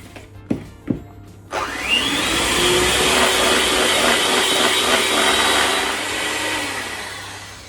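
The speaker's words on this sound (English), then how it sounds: "Just going to give it a quick mix in before I turn the whisk on" After a few knocks, an electric whisk starts up and beats cake batter in a bowl with a steady loud whirring hum that drifts slightly in pitch, close by for several seconds and fading a little toward the end.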